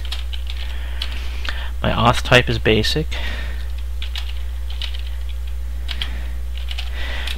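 A burst of quick keyboard typing, clicky keystrokes for about a second, with a person speaking calmly before and after over a steady low hum.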